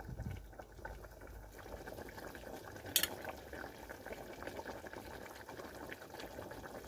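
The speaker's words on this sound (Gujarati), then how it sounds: "તો થોડી વાર એમને એમ ઉકળવા દેશું" Dhokli curry simmers in a pot with a soft, continuous bubbling close by and one brief sharp clink partway through.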